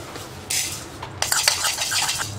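Coriander seeds roasting in a pan, stirred with a metal spoon: soft scraping and rattling strokes over a faint sizzle, close and moderately quiet.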